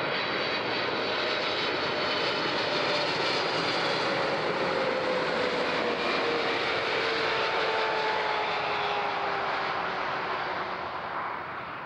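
A jet airliner on approach to runway 14 at Zurich airport sweeps past in a loud, sustained engine roar with a slowly falling whine, close and steady throughout.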